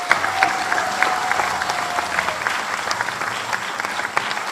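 A large audience claps for the parents at an ISKCON initiation ceremony at Bhaktivedanta Manor, giving dense, sustained applause that holds at an even, loud level throughout.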